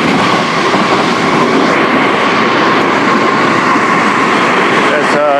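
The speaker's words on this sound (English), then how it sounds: "Here comes the train." A JR train rumbles past close by in a loud, steady roar of wheels and engine noise that fills the whole clip.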